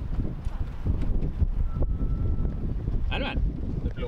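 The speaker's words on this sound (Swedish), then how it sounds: "Det blåser ganska mycket idag." Strong gusts of wind buffet the microphone in rumbling, uneven bursts, with faint voices in the background.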